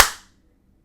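A single sharp hand slap from a dap-up handshake, loud and close, ringing out briefly before fading into near silence.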